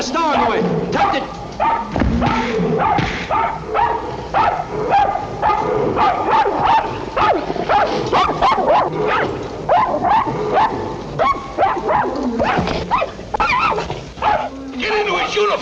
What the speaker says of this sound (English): Take this dog away.